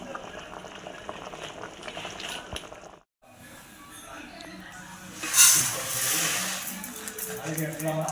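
Jaggery dissolving in a little water boils in a pot, giving a steady bubbling hiss that swells louder midway, with a brief silent gap near the start and faint voices in the background.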